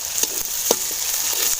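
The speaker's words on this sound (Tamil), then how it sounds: "இப்போ வெங்காயம் எல்லாம் நல்லா வதங்கிருச்சு." Onions frying in a pan with a steady hiss and a few faint stirring scrapes, close and fairly loud throughout.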